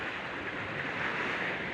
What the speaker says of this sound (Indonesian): Dan lihat ya, ombaknya asik ya, nggak begitu besar.